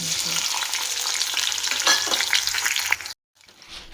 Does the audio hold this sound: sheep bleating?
no